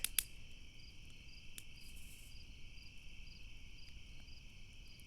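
A chorus of tree frogs sings at night beside a fire, a steady high-pitched trilling drone with faint pulsing chirps, soft and continuous with no talk.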